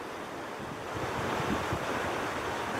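Ocean waves wash onto a beach at Jandia, Fuerteventura, a steady broadband surf roar that swells louder partway through, with wind buffeting the microphone and no voices.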